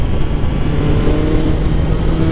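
Engine of a 2021 BMW S1000R motorcycle fitted with the optional Akrapovic exhaust, a loud, steady, close rumbling drone held without pause for a couple of seconds.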